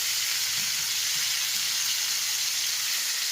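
Bacon and pear frying in vegetable oil in a pan, a steady, even sizzle and hiss that runs unbroken from start to finish.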